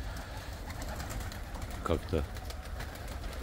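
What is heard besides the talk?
white Baku pigeons cooing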